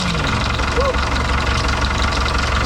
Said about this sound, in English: Go on, start a motor test.